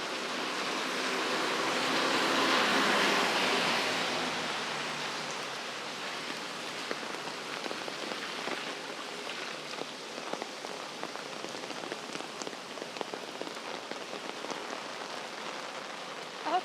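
Heavy rain pours steadily along a street in Geylang, Singapore, a dense continuous wash that swells loudest early on, then settles into a steady patter with scattered sharper drops nearby, no voices.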